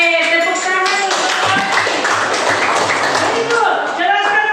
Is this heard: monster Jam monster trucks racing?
no